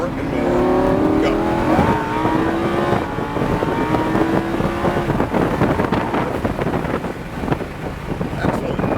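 A Lamborghini Huracan on a race track accelerates hard, its engine rising in pitch through the gears with wind buffeting, while an instructor talks over the roaring engine.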